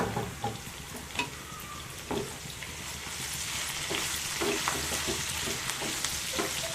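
Green chillies, curry leaves and peanuts frying in hot oil, a dense hiss of sizzling that grows louder, with a few soft spoon scrapes and taps near the start.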